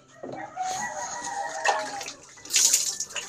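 Water splashes and pours over an elderly man during a bath, coming in uneven bursts close by, with a rooster crowing in the background.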